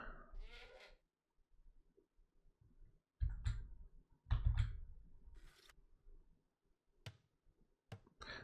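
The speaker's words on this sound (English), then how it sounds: "For now, this one goat farm should be okay to supply to butchers." Goats bleating at a goat farm in the city-building game CivCity: Rome, several short bleats early on, then sparse clicks and thumps of game activity, fairly quiet with no talk.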